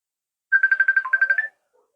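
A phone ringtone for an incoming call sounds once as a quick run of about a dozen bright electronic beeps lasting roughly a second, clear and alone against silence.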